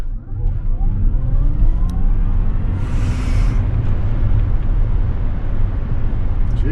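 A Tesla electric car launches hard in launch control, a loud steady rush of road and wind roar with a rising whine building throughout, heard from inside the cabin.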